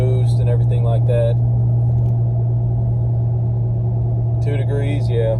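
A lifted Ford F-250 with a 6.7 Powerstroke diesel engine pulls a heavy load uphill, giving a steady loud low drone and rumble heard from inside the cab, with people talking over it at the start and end.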